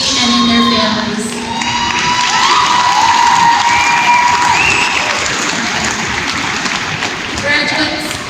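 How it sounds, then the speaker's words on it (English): A large graduation crowd applauds and cheers, with sustained clapping beneath shouts, whoops and high voices rising and falling over several seconds. "Let's take a moment to applaud these remarkable individuals"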